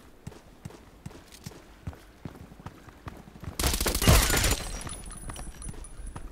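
Short shots from an MP5 in a sniper shooter game, some scattered and faint, then a loud close burst of rapid automatic fire followed by a lingering wash of noise.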